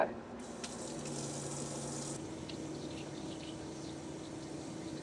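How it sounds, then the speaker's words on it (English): Sink water gurgles and runs as it drains straight overboard from the galley of a Seawind 1160 catamaran, a steady, soft trickling wash lasting throughout with a brief brighter splash near the start. "our sink water just drains right overboard"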